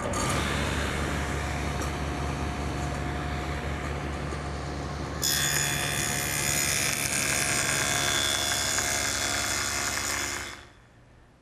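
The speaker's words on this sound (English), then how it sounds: "I've got the table saw all set up with the dado head, and I'll make that top rabbet first" A table saw fitted with a dado head cuts a rabbet for an oak bathroom vanity. It gives a loud, steady whirring drone whose tone shifts partway through the cut, then winds down and fades at the end.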